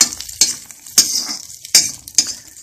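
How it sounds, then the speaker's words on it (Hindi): Cashews and almonds roast in a pan over low heat for semolina halwa: a soft background sizzle broken by four or five sharp metallic clinks of a spoon stirring against the pan, close by. "काजू बहुत जल्दी ही भुन जाता है और बादाम को इसमें इसलिए भुन रहा हूँ"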